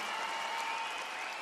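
Crowd at a Britain's Strongest Man strongman event, a dense roar of applause and cheering that fills the whole moment, steady and fairly distant.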